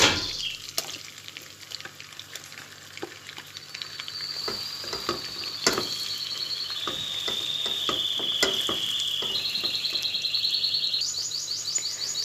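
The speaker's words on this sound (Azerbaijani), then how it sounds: "Əvvəlcə yağımızı əridib, soğanımızı bir azca qovururam." Onions frying in melted fat in a pan, a close, continuous crackling sizzle with scattered pops and stirring clicks, joined by a high whistling tone in the later half.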